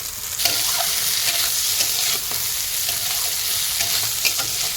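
Prawns sizzle steadily in hot oil with onion and chili, with occasional scraping and stirring clatters over the continuous fry.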